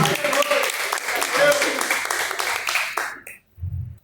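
A church congregation claps in welcome, a lively burst of applause with voices mixed in, breaking off abruptly near the end.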